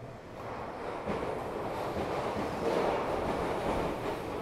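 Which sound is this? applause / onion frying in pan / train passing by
train passing by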